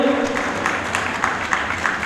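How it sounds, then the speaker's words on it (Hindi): An audience at a stage event claps steadily, giving a standing welcome to an arriving guest; dense, moderately loud applause from a crowd, with some background voices mixed in. "जोरदार तालियों से खड़े होकर स्वागत करें।"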